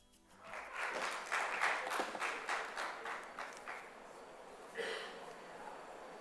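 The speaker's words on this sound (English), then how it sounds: "Applause, please." An audience applauding at a proptech forum session, faint and distant, rising after a brief pause, then thinning into scattered claps with a final clap near the end.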